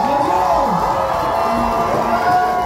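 Crowd cheering and shouting loudly at a live event, with whoops and voices rising and falling together in a continuous close roar.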